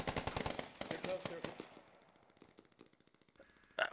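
Frag grenade blasts and rattling gunfire in a tactical shooter game, a dense cluster of sharp bangs that thins into scattered pops, with a voice talking over them.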